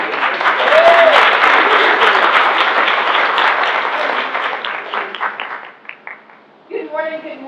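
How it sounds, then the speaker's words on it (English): Breakfast meeting audience gives a warm round of applause, a dense loud wash of clapping that holds steady then tapers off, with a brief voice before a speaker starts talking at the end. "Let's give it another applause, please."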